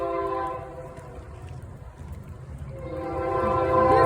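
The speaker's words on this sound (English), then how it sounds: "Excuse our trains. We do have a railroad train." A railroad train rolls through a small town's Main Street, its rumble steady as a sustained multi-tone horn blares, fades briefly, then swells louder and closer toward the end.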